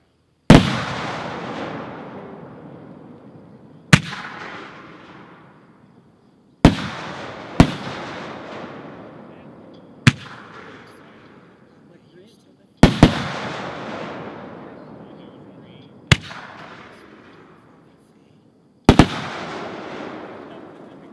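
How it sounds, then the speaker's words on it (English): Professional 62mm firework shells burst one after another in gold, white and green peony and red strobe effects, each loud sharp boom trailing off into a long crackling decay, about eight reports spread across the sequence. "Okay, then gold peony, then white peony, green peony, and finally red strobe."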